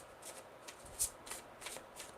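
A tarot card deck shuffled by hand, soft riffling swishes in several short bursts with one sharper snap near the middle, close and quiet with no talk.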